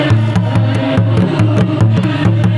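A Tamil tribal folk instrument plays a steady, repeating rhythmic figure with droning low tones and regular percussive accents, loud and close throughout.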